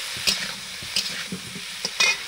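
Potato and cauliflower pieces frying in a pan for a winter vegetable labra, a continuous close sizzle broken by several distinct stirring scrapes at irregular intervals.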